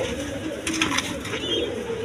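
Pigeons, a pair with two squabs, coo steadily in a low, close rumble with a faint chirp or two over the top and no talking.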